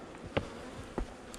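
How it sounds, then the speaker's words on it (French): Bees buzz in a low, steady hum from a frame of an aggressive colony being split, with a couple of brief louder buzzes as insects pass close by. "un cadre d'abeilles"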